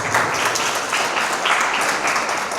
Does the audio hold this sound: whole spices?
no